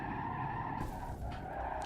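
Car tires skidding with the brakes locked up in a racing video game, a harsh continuous scrubbing hiss over steady engine noise, loud and close throughout.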